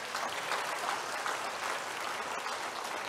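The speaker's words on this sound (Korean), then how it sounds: "우리 렘넌트들 잘 자라나도록, 새싹처럼 자라나도록 박수 한번 쳐줍시다." A church congregation applauds together, a dense, even wash of clapping that holds steady for a few seconds.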